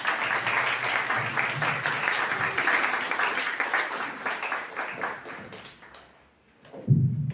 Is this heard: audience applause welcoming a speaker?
yes